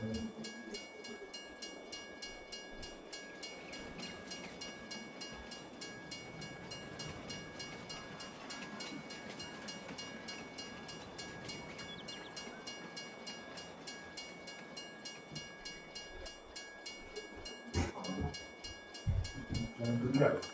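A freight train rolls past in Farming Simulator 22, a steady mid-distance rumble with tonal ringing and rail clatter throughout, swelling louder with a few knocks near the end; no speech is heard.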